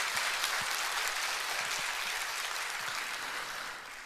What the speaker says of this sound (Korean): 하나님께 먼저 영광의 박수 올려드리고 말씀 나누겠습니다